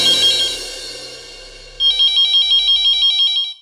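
A telephone rings with a repeating electronic trill, a short burst and then a longer run of evenly pulsed rings, loud and close.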